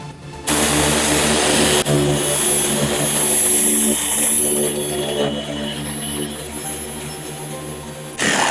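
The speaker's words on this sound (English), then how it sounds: "we're going to be using a small DA polisher" A small dual-action polisher runs on a car's clear coat during scratch repair, a loud, continuous close-up whirring drone that keeps a fairly even level for nearly eight seconds, with a faint high whine above it.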